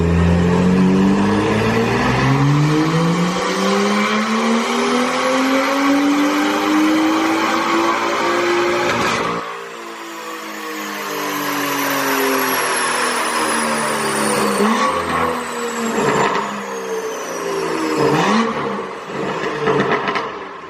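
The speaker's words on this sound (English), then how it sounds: "get the car on the dyno, and see exactly how much horsepower we gain" An ECU-tuned car engine revs on a dyno, climbing steadily in pitch through a long loud pull for about nine seconds, then drops and rises again in shorter, rougher surges.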